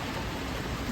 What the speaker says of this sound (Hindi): हाँ बारिश हो रही है, दिख भी नहीं रहा है कुछ भी,